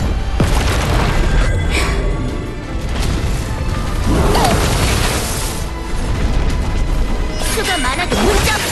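Forward firepower barrage in the Star Savior video game, with heavy booms and crashing explosions rolling continuously, loud and dense, under voiced character lines and game sound.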